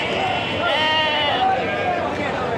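Sheep and rams bleat at a busy weekly village livestock market, a steady chorus of overlapping cries over a crowd murmur, with a few louder bleats rising near the middle.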